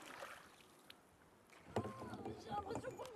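A boat is rowed with a single oar on a fishing outing: splashing and dipping water strokes in the second half, fairly close, over quiet outdoor background.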